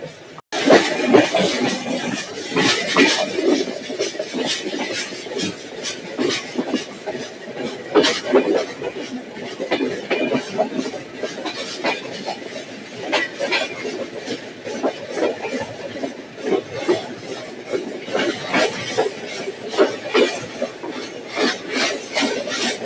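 The Nilsagar Express, a Bangladeshi passenger train bound for Dhaka, rolls along with a continuous rattling, grinding clatter of carriages and rhythmic wheel knocks, loud and close from inside, with occasional voices.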